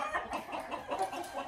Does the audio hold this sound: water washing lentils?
no